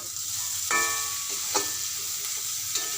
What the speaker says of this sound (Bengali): আমি মশলার সঙ্গে ফুলকপি কষে নেওয়া হয়ে গেছে